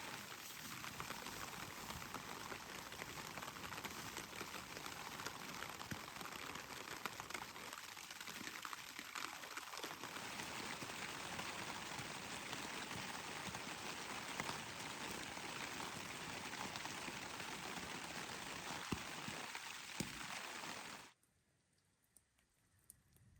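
Heavy rain pours onto a tent in Cuberant Basin in the Uinta Mountains in September, a dense, loud, unbroken hiss that stops abruptly near the end, leaving near silence.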